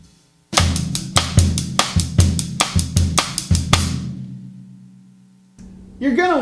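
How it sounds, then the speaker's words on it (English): A drum kit playing a bossa nova pattern heavily in a rock style, about a dozen hard, even hits over a sustained low tone that decays away, followed by a brief voice at the end. "if you're playing rock drums, you know, you're playing your rock drums, it might sound like this"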